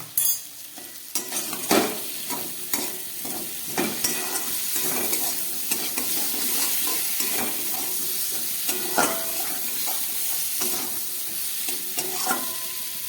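Kohlrabi and potatoes sautéed with cumin, coriander, turmeric and Kashmiri chilli powder sizzle steadily in a pan, with frequent scraping and clacking of a spatula stirring close by.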